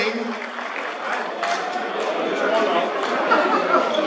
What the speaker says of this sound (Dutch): een hartelijk applaus voor onze eeuweling.